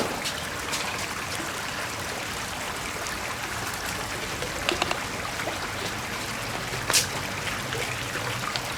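Running water while hands are washed outdoors, a soft steady trickle and splash at moderate distance with a few small clicks and no voices.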